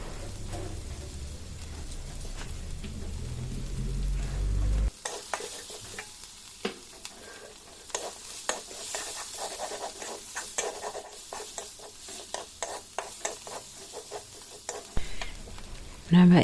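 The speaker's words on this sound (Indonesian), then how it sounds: "Mbak Ica tambahkan ketumbar, lepas itu kunyit, kita gaul-gaul dulu." Coriander and turmeric sizzle in a pan on a home stove and are stirred, loud frying at first, then repeated scraping strokes of the spoon over a softer hiss, near.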